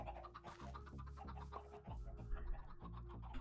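Chickens in a modded Minecraft game cluck in a busy overlapping chorus, steady and fairly close, with several birds sounding at once.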